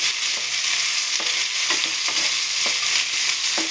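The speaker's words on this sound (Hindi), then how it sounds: "2 चम्मच तेल डालने का, जीरा, बड़ीशेप, अजवाइन 1 चम्मच, 2 प्याज" Cumin, fennel and carom seeds frying with onions in two spoons of oil for karela sabji, a bright, dense sizzle with periodic spoon scrapes and stirs, close and steady, no voices.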